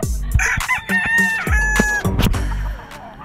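Roosters at a gamefarm in the heat crow loudly and close, with several overlapping crows and some clucking from the fowl around them.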